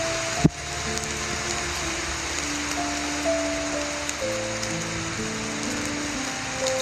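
Heavy rain keeps up a dense, even hiss from start to finish, broken by one sharp knock near the beginning, with no talking.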